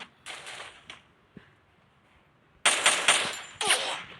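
Video game gunfire comes in rapid bursts of close, sharp shots, a short volley near the start, a few isolated cracks, then a louder sustained burst toward the end with quiet gaps between.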